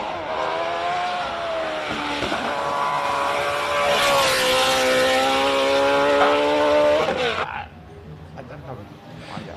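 A loud race car engine at the Simola hill climb screams upward in pitch as it accelerates, holding a rising whine before cutting off abruptly and fading.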